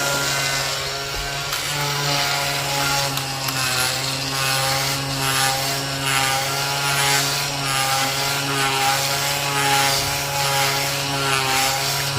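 Steady, high-pitched mechanical buzzing of an oscillating multi-tool sanding drywall compound, running continuously at an even level with no talking.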